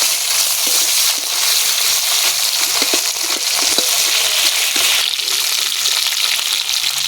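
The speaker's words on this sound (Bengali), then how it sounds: "মাছের মাথা ভাজা হয়ে গেছে, তুলে নেব।" Fish heads fry in mustard oil for a moong dal dish, producing a continuous, close, loud sizzle with occasional scraping clicks from stirring throughout.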